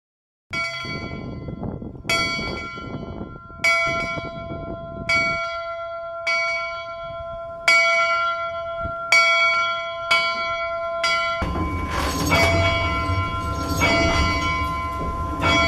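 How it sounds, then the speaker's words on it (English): The bell of CB&Q 4978, a steam locomotive, rings in about ten evenly spaced clear strikes, each ringing on, close and loud, with a burst of extra clanging clatter toward the end. "ring the locomotive's bell"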